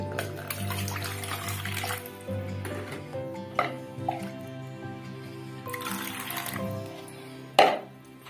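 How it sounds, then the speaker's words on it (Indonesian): Water splashes and trickles into a wide, shallow container outdoors, a steady pour with a few sharper drips and splashes, moderately close and without talk. "Tambahkan sedikit air."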